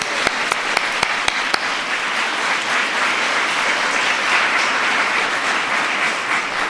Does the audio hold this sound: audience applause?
yes